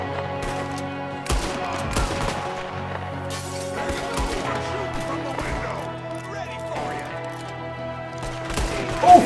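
Repeated gunfire from Red Dead Redemption 2 in a snowy setting, several shots over game music and ambience, while someone talks throughout.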